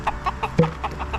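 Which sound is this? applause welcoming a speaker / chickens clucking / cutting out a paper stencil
chickens clucking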